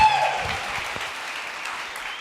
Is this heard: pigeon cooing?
no